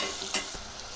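Chicken pieces dropped into a hot pan with turmeric, giving a steady close sizzle with a brief louder stir or splash near the middle.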